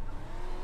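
A Pro 2 Lite rallycross race car in iRacing at Daytona slides loose after cutting a corner tight, a short loud burst of engine roar and tire squeal.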